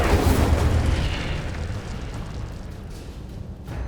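A loud, roaring fiery burst from the Incendio fire spell in a Harry Potter video game, strongest at the start and then tapering into a sustained rumbling whoosh.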